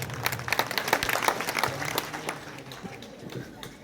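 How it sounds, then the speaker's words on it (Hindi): Applause rises at a political stage event to welcome former chief minister Harish Rawat, uneven bursts of clapping from a crowd that fade toward the end, with faint voices underneath. "जोरदार तालियों से आप स्वागत करें"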